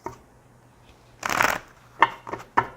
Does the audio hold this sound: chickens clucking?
no